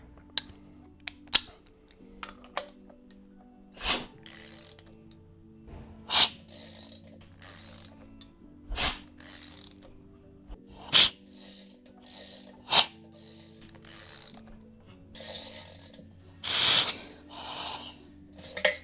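Mazda 13B rotary engine turned over by hand in a workshop, quiet ratcheting clicks and mechanical turning with airy whooshing pulses at irregular intervals, close and sparse against near silence.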